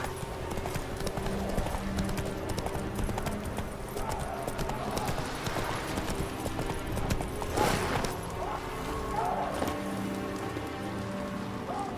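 In The Witcher 3, a horse's hooves clip-clop in a steady walking rhythm over rain pattering on surfaces, with faint background game ambience and a brief louder splash midway.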